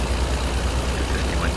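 An American Truck Simulator truck hauling a 43-ton milling machine, its engine droning low and steady with a faint rising rev as it slowly builds speed, heard alone at moderate level.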